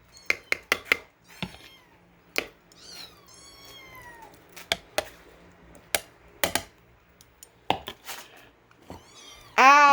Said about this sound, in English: Maya, will you get the cat off my leg?